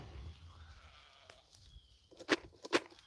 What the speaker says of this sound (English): So let me let's try to call them all over here. Sheep.